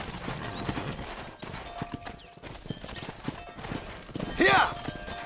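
Steady clip-clop of galloping hooves mixed with a soundtrack from the video game Red Dead Redemption, a horse whinnying loudly near the end, with someone speaking at times.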